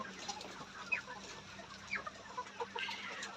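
A Hy-Line Brown layer hen clucks up close: soft, scattered short clucks and murmurs against a quiet farm background, with a louder burst at the very end.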